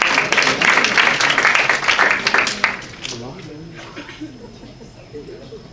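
Audience applause fills the first three seconds, a dense wash of clapping from a seated crowd at a community storytelling event, then quickly fades as a voice begins talking.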